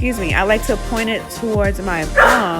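A pet dog barking and yipping several times indoors in the background while someone talks over it at close range.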